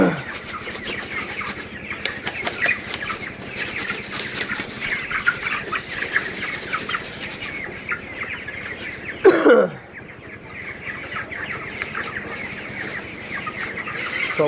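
Broiler chickens on a poultry farm cluck steadily throughout, a dense flock murmur close by with scattered louder calls, one sharp burst near the end before the noise briefly drops.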